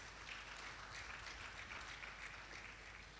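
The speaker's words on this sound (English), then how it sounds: "Please come and give him another round of applause." Sustained applause from an audience at an ICT expo, a steady wash of many hands clapping at moderate distance, even in loudness throughout, with no voices on top.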